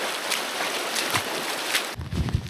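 Water from a mountain stream in the Southern Alps rushes and splashes steadily on a hike across it, then turns into closer, sloshing sounds near the end.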